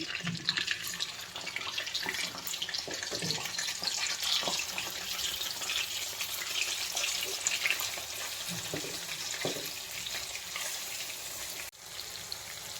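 Mackerel frying in coconut oil, giving off a continuous crackling sizzle with scattered louder pops, steady and close throughout.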